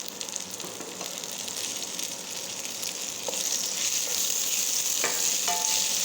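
Cut tomatoes are added to Punarnava leaves frying in a pan, giving a loud, steady sizzle that grows a little stronger, with a few faint clinks of a utensil near the end.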